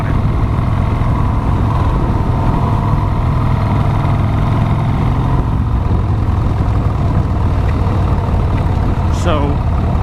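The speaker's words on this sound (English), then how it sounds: "how do I end up on this awesome looking, awesome sounding Sportster" A Harley-Davidson Sportster motorcycle idles steadily with a loud, constant low engine rumble for the whole stretch, a brief faint chirp rising near the end.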